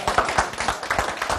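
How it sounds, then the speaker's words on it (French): A studio audience claps at the end of a television talk show, a short burst of close, uneven hand claps with no voices over it. "Vous pouvez m'applaudir, c'est parce que l'émission est terminée."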